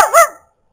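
A ROBOTIS PLAY 700 robot dog toy plays a short recorded bark, one bright yip-like burst that falls quickly to silence.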